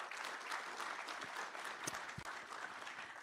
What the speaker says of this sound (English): Could you please give them a quick round of applause before we begin?